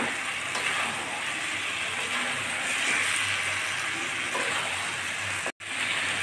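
Fried eggs sautéing in a pan with spices and three whole green chillies for an egg curry, a steady close sizzle and crackle running evenly throughout with one brief dropout near the end.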